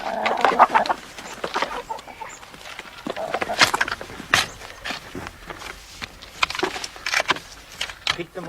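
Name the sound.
chickens clucking while being fed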